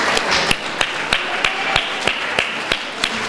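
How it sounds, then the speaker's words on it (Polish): An audience claps in applause, a steady patter of many hands with a few sharp, loud claps standing out, with no talk. "Zasłużone brawa"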